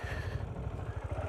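A KTM Duke 690 single-cylinder motorcycle engine, A2 version, runs with a low, steady pulsing throb, quiet and close, heard alone for a brief moment.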